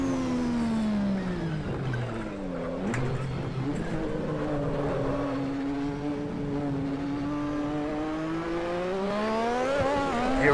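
Lotus 98T turbo Formula One car lapping Spa-Francorchamps in the Assetto Corsa racing game, its engine droning loudly and steadily throughout with rising and falling revs through gear changes and a brief dip mid-lap.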